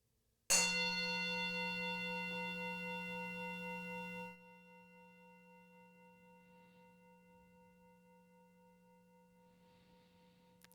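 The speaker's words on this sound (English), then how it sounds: "I'm going to start this meditation by sounding the bowl one time." A single struck metal singing bowl rings out clearly, its steady tone sustaining for several seconds before dropping and fading slowly into quiet.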